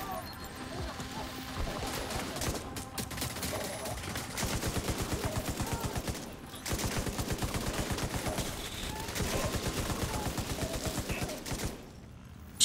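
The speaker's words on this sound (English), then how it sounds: "Someone's going hard with the grenades." Grenade blasts and rapid gunfire crackle in The Division 2, bursting in dense, rhythmic volleys with short pauses, loud and close, with a voice briefly talking over the battle.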